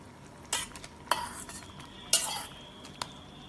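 A spoon stirs a vegetable curry with fried brinjal in a pan, giving a few scraping clinks at irregular intervals, close and fairly quiet over a soft background hiss.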